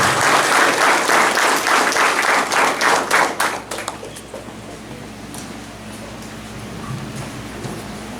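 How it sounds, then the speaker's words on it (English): Loud audience applause at a graduation ceremony welcoming a pastor, dense clapping for about four seconds before fading into quiet room tone. "Let's welcome him with a big round of applause as he made his way to the floor."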